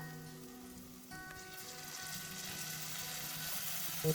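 Onion, garlic and ginger paste frying in a pan for a tofu spinach curry, a faint, even sizzle and crackle building slightly, with a quiet tonal hum beneath and a brief knock at the very end.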